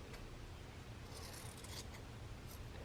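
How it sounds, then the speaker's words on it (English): Quilt fabric is cut along a marked line, giving soft, close crisp snips and rubbing scrapes, faint and brief, with no talking. "Now, I'm going to cut on that line,"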